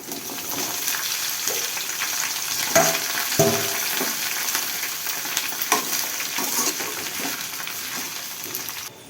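Ivy gourd (dondakaya) frying in a pan with green chillies, giving a continuous close sizzle and crackle with occasional sharp pops and clinks of stirring, and no voices.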